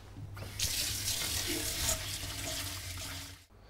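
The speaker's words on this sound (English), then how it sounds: "I'm just going to rinse them under cold water and really make sure I get rid of all that grit." Cold tap water runs steadily into a kitchen sink as leeks are rinsed of grit, a continuous splashing hiss that stops abruptly near the end.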